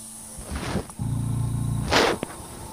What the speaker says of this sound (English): I hope my compressor noise is not just driving me crazy.